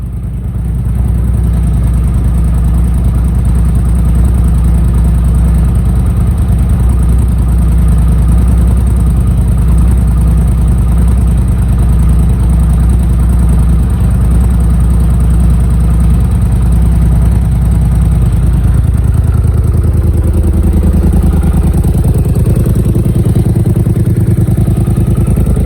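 Vehicle nicknamed Big Red idling steadily, a loud, continuous low engine rumble with a constant clattering undertone, close by for the whole stretch, with a slight change in pitch near the end.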